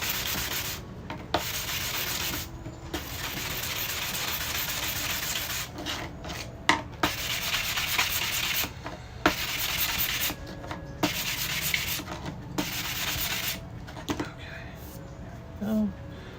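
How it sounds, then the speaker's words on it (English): Acrylic is sanded from clear to frosted in long, rhythmic rasping strokes, near and steady with short breaks between passes. "the reason why we're sanding the acrylic from clear to faded or frosted"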